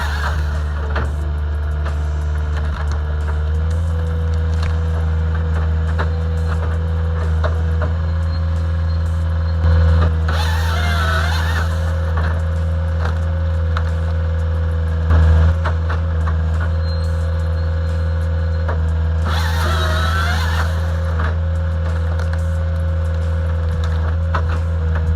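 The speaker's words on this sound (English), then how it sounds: "This firewood attachment turns any heavy machine into a wood-splitting powerhouse." A firewood processing attachment on a heavy machine splits logs over a constant low diesel drone, with a few sharp cracking, splintering bursts of wood breaking apart at intervals.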